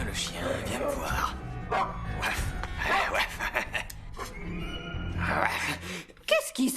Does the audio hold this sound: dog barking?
yes